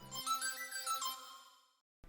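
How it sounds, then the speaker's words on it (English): An arpeggiated synth patch from Serum plays quick bright rippling notes over a low tone, fading out into near silence near the end. "Another element I have here is an ARP from Serum"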